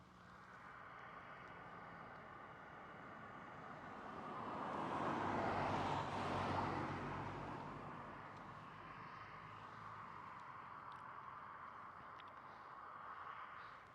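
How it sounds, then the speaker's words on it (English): A car passes on a road beside a parked 2013 Land Rover Discovery 4 SDV6, a broad engine-and-tire wash swelling in the middle and fading away outdoors on a nice day. "there's a car coming"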